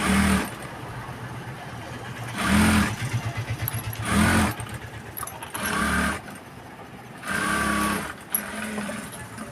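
A sewing machine stitches a blouse sleeve, running close and loud in several short bursts with quiet gaps between them.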